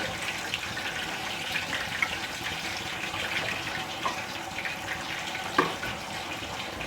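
Whole dried red chilies fry in lightly heated oil, giving a steady, soft hiss of low sizzling with a few faint crackles and pops, one slightly sharper pop standing out near the end.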